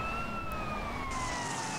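Police car siren in GTA San Andreas wailing in steady, slowly falling electronic tones over a constant rumble of game noise, at moderate distance and without talk.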